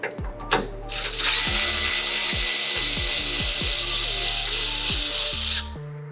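An impact gun or power tool whirs steadily at close range for several seconds, loosening the lower shock bolt on a Lexus GX460 during a suspension install, with short clanks before it starts and an abrupt stop at the end.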